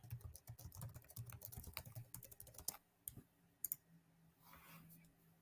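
Rapid keyboard typing clatters up close in a quick, uneven rhythm, then slows to a few isolated key clicks and a soft rustle.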